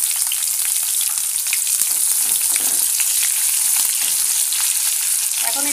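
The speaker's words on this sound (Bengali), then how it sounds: "আর এই যে এখানে এবার পেঁয়াজ কুচি দিয়ে" Chopped onion fries in a pan with a loud, continuous sizzle. The bright crackling stays close and steady, with faint stirring underneath.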